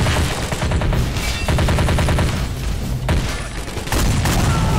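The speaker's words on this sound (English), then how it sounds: "That AA gun is pretty deadly." Toy army men battle with an AA gun firing on red commandos charging up a hill: dense, loud bursts of rapid gunfire and booms, rattling on in continuous volleys with brief lulls, no talk.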